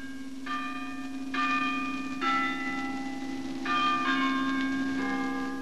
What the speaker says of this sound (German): Wo heute nur noch das Glockenspiel diese Melodie ertönen lässt